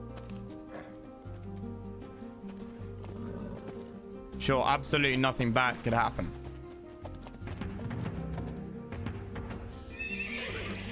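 Horses neigh in a strategy video game, Age of Empires 2, a burst of whinnies in the middle over game music and clip-clop hooves, with someone talking at times.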